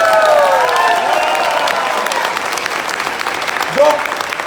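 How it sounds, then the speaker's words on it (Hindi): Audience clapping fills a hall at a career opportunity meeting, dense and loud throughout with a brief voice rising near the end. "ताली कितने लोगों को मारना आता है"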